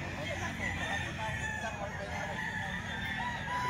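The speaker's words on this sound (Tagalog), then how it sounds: "Puro mga quality manok yung mga nakikita natin yan sa grotto." Fighting-cock rooster crowing at a gamefowl farm, a faint, drawn-out crow heard at a distance over steady background noise and soft clucking.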